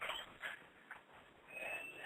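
A dog whimpers after being kicked, with faint, high-pitched whines and yips repeating softly across the moment in an indoor setting.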